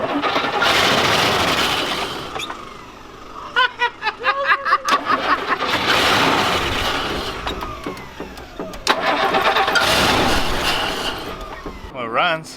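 A 1969 Rolls-Royce barn-find engine cranks and fires, surging loudly and sputtering in uneven bursts before settling into a rough run, with people talking and laughing over it.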